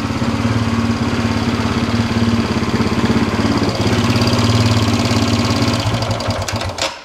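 Small motorbike engine idling on choke, a close, rapid, even putter with a steady low drone that holds throughout, then cuts off abruptly at the end.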